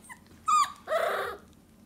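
A mother dog in a whelping box with her puppies gives two close, clear vocalizations, a short high whine and then a longer whimpering yelp, with quiet gaps around them.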